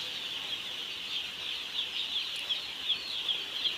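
A flock of chickens in a poultry shed makes a dense, continuous chorus of high peeping calls with small rises and dips, with no voices.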